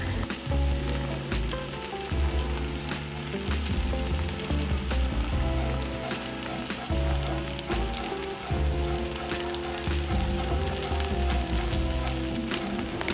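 Rice, vegetables and coconut cream tossed in a frying pot give a loud, continuous sizzle with repeated stirring and scraping strokes throughout.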